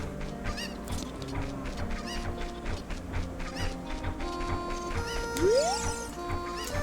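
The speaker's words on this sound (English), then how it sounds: "My cuckoos have all flown away." Cucco chickens cluck and squawk in a Legend of Zelda: Ocarina of Time game scene, with repeated bird calls over a steady game soundtrack and a rising chime effect near the end.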